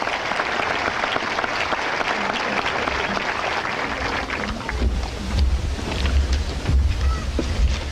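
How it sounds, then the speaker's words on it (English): Applause for graduating salutatorians at a high school graduation, steady clapping from a crowd with outdoor wind noise rumbling over the microphone, growing gustier in the second half. "Ladies and gentlemen, a round of applause for our 5 class of 2014 salutatorians."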